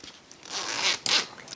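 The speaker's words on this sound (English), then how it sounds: "Nice zipper." A zipper on a substantial felt bag is pulled in two quick, close strokes, a longer rasping run followed by a short sharp zip.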